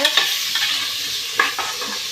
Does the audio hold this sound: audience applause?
no